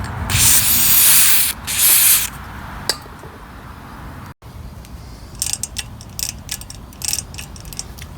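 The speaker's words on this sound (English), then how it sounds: "let's just spray it here" Two long, loud hissing spray bursts hit the engine of an antique Snapper Comet 26 rear-mount riding mower. Quieter stretches follow, with faint mechanical ticks and small clicks.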